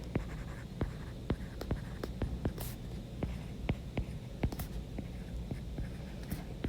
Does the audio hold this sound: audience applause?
no